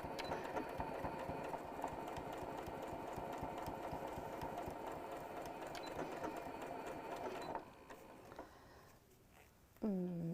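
A sewing machine stitches a fabric pouch, giving a fast, steady mechanical whirring buzz for about seven seconds before it stops and falls to near quiet, then a short voiced sound near the end.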